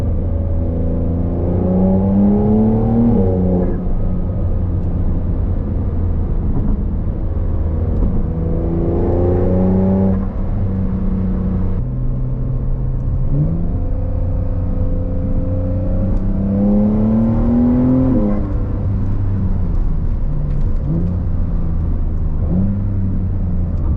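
A 2021 Porsche 911 Carrera 4S with a V6 engine accelerates hard, its loud engine note rising in pitch and then dropping sharply at each quick gear shift, repeated several times in a steady cycle.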